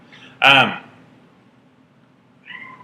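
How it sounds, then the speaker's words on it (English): A house cat gives one loud, clear meow early on, and a shorter, fainter meow follows near the end, both set against a quiet indoor room. "my cat is trying to join us"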